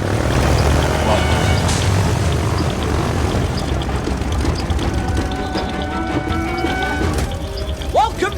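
A propeller airplane flies over a jungle in an adventure film scene, its loud, steady droning engine filling the whole stretch without a break.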